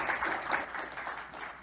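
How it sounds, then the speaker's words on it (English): Audience applause after a conference talk on multitenancy, a dense steady patter of many hands clapping at moderate level throughout, with no voices over it. "I wanted to clap too"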